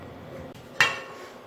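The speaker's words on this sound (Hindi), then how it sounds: "फ्राई पैन हमने आग पे रखा है" A metal frying pan set down on a stove burner gives one sharp clanking knock with a short ringing tail, standing alone over a quiet kitchen background.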